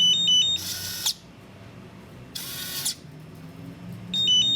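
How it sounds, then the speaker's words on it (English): Electronic beeping from a Samsung SHS-3321 keypad door lock: short high tones at the start and end, with two bursts of bright electronic buzzing between them, over quiet room noise. "give you that three beeps"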